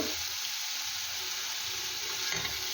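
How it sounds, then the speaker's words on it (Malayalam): Green chili, tomato and onion sauté in a hot pan for egg aviyal, a dense, even sizzle holding steady and close throughout, with a slight stir near the end and no speech. "ടൊമാറ്റോയും സവാളയും കൂടി ഒന്നും കൂടെ മൂപ്പിക്കുക"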